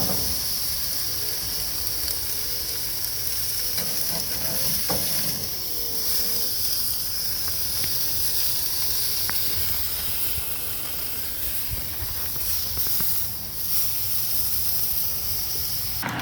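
A bone-in ribeye steak seared on an iron grill grate during a reverse sear, a continuous loud hiss and sizzle with occasional faint clicks.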